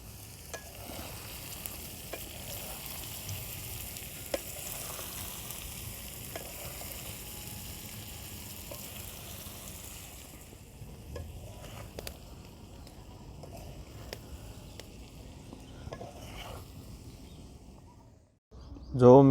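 Spinach and potato curry being stirred and fried in a pan with ginger, turmeric, garlic chili, salt and coriander-cumin, giving a steady low sizzle with scraping stir clicks, close and moderate, ending in a brief louder clatter.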